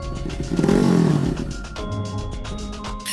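Motorcycle engine effect: a steady, rough engine drone with a brief rise in pitch and loudness, like a short rev, then a settling idle-like rumble, close and continuous, with no talking.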